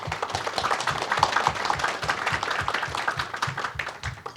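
Warm applause at an energy policy forum welcoming a professor to the stage, a crowd of hands clapping steadily with a faint low rhythmic thump beneath, fading toward the end.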